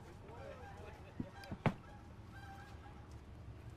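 Geese honk a few times outdoors on Main Street in Union, South Carolina: three short, fairly faint calls come close together over a steady background hum.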